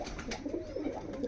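A pair of Malwai pigeons coos softly and repeatedly at close range, low throaty calls rolling one into the next with no talk over them.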